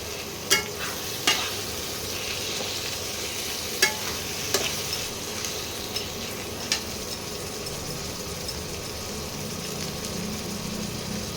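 Tomatoes and other lamb curry ingredients sautéing in a pan give a continuous, even sizzle, with sharp spatula knocks against the pan every second or two.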